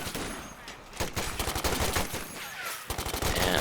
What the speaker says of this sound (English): And I love that you have the Thompson and the bar sound.